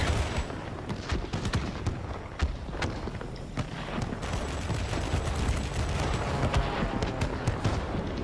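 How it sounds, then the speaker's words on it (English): Rapid bursts of 20mm aircraft cannon fire in a video game, World of Warplanes, crackle in quick succession over a constant roaring engine drone, loud and sustained throughout. "just listen to these guns. I mean, those 20mm cannons are just fantastic."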